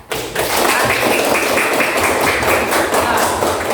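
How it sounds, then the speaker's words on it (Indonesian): Classroom applause for a student group, a dense burst of many hands clapping that starts abruptly and continues steadily at close range, with no speech over it. "kita aplaus buat kelompok Fikri"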